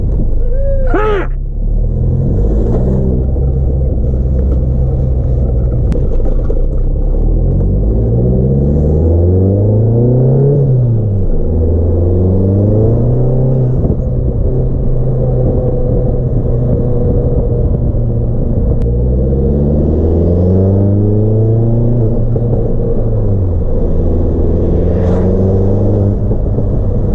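A car engine fitted with a new DKM twin disk clutch drones loud and close from inside the cabin, revving up and down repeatedly through gear changes.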